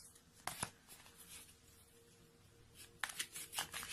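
Oracle cards are shuffled for a tarot love reading, giving two soft bursts of riffling, one brief and one longer, close and quiet with no talk.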